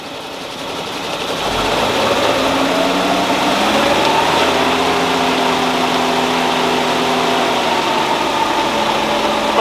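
An engine roars on a dyno, held in first gear against a trans brake on a 727 transmission, its steady loud drone climbing after two seconds into a sustained, shifting harmonic rumble.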